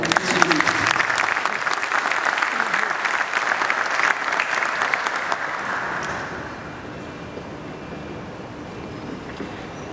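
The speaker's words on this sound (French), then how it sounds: "que je vous remercie d'applaudir bien fort" Audience applause at an international bridge-engineering conference in Morocco, greeting a government minister as he comes on stage; dense, loud clapping that fills the hall for several seconds, then fades into quieter room noise.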